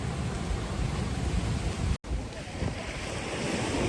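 Strong wind roars across the coast at Akumal, Mexico, blending with surf in a steady, loud wash, interrupted by a brief cut midway.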